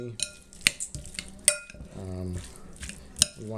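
A spoon stirs mayonnaise into chicken salad in a bowl, with irregular metallic clinks and scrapes against the dish and a soft wet mixing sound, close and moderately loud, with a voice briefly in the background.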